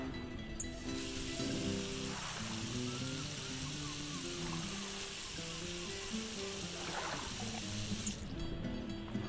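Water running from a tap into a pot in the cooking video game Cooking Simulator, a steady soft rushing stream lasting several seconds, with quieter clicks near the start and end.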